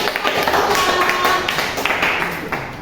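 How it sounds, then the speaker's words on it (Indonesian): Classroom applause for a student group's answer during a teaching session, a dense wash of clapping filling the room, with voices faintly under it. "Oke, kasih tepuk tangan."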